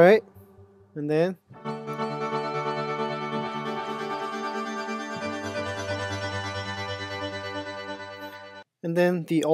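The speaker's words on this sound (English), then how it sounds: "And then the old school pad heard on the album Across the Earth." Old-school synthesizer pad from the album Across the Earth swells in as a sustained, rich chord that holds for several seconds and adds a deeper low layer midway, with short bits of speech before and after it.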